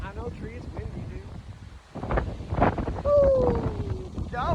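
Gusty wind buffets the microphone on an outdoor walk in Spain among trees, a steady broadband rush that swells louder in the second half, with people talking and calling out over it.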